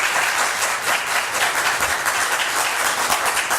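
Audience applause at a Boynton Beach city commission meeting, a steady wash of many hands clapping together, fairly loud and sustained throughout.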